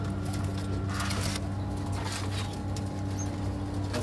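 Pigeons cooing at a rooftop loft, low soft coos repeating over a constant background hum, with faint flutters and rustles, moderately distant and quiet.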